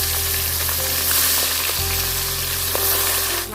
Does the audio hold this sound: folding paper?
no